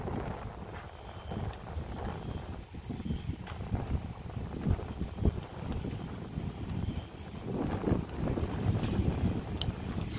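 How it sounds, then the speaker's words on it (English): Strong gusty wind buffets an outdoor microphone during a thunderstorm, a continuous rough roar swelling and easing in waves, with scattered knocks and rattles and no talking. "Still quite windy."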